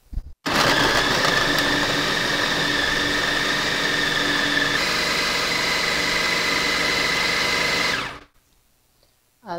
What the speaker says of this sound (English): Now I set up my food processor. And let's start.